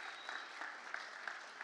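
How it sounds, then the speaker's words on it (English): Audience applause at an investment summit finale in Edmonton, a steady dense wash of clapping from a crowd, fairly quiet and distant, continuing evenly throughout. "A round of applause for all of our sponsors and Fairly Staffing."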